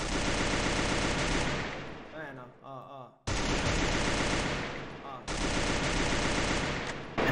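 A powerful gun fires rapidly in the Free Fire video game, loud continuous automatic bursts with a short break in the middle before firing resumes.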